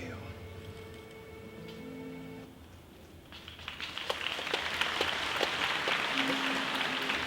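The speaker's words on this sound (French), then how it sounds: "On applaudit très très fort" An audience applauds at a cosplay show at Japan Expo 2015, a dense, hissing wash of clapping that starts after a quieter stretch and then swells and stays loud to the end.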